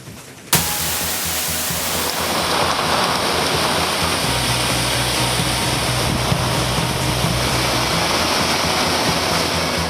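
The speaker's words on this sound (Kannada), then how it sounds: "ಧಾರಾಕಾರವಾಗಿ ಬೀಳುತ್ತಿರುವ ಮಳೆ, ಹಾಲ್ ನೊರೆಯಂತೆ ಧುಮುಕುವ ಜಲಪಾತ" Chikkali Falls near Belagavi pours down in heavy rain, a dense, steady roar of rushing water and rainfall that starts abruptly and then holds loud and unbroken, with no voices.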